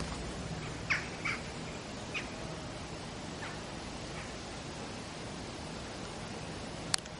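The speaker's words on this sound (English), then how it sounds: "Crow sounds, see if I can get it." A few faint crow caws sound at a distance, spaced out over a quiet hissy outdoor background, with one sharp click near the end.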